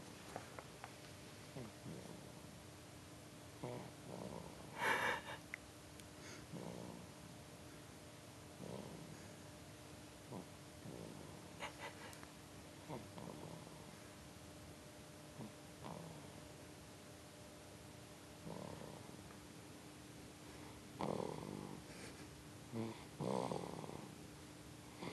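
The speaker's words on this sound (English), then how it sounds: "This is the baby snoring" A baby snores softly while lying on an adult's chest, giving irregular, faint breathy snorts and purring breaths spread over about 25 seconds against a quiet background hum.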